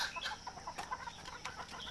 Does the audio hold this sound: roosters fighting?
yes